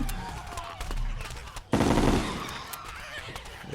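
In Terraria, a vortex beater gun fires chlorophyte bullets in rapid bursts, with sharp clustered shots and a louder blast partway through amid other game effects, and a voice faintly in the background.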